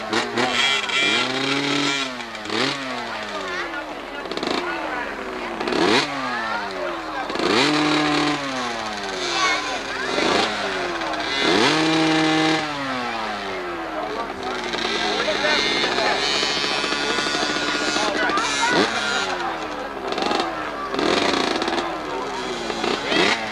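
Revving 80cc junior-class hillclimb motorcycle climbing a hill at Whaleback in Enfield, New Hampshire, its engine rising and falling in repeated sweeps, loud and sustained, with crowd or announcer chatter over it.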